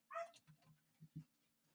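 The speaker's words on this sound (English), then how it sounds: "Never mind the dog barking in the background." A dog barks from somewhere in the background: a few short, muffled barks and yips spread across a couple of seconds, faint and with no talking over them.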